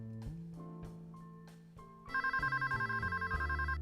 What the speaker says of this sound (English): we might answer the telephone